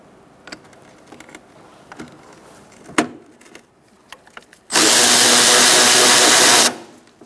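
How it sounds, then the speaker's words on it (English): Removing a transmission mount bolt on a 2004-2009 Mazda 3 2.3L with a 10mm socket and extension: scattered close clicks and taps, then a loud steady buzz of a power tool running about two seconds before stopping. "Using a 10mm socket and an extension."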